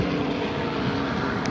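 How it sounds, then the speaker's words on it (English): Helicopter flying over an empty beach, a steady broad engine and rotor roar mixed with wind noise, continuous and fairly loud throughout. "Is that a helicopter flying?"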